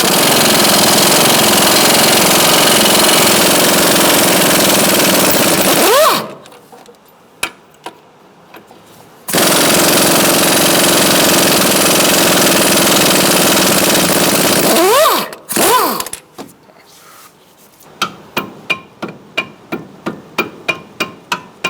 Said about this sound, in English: I'm going to use a 17mm socket on the head of the bolt to try to back it out.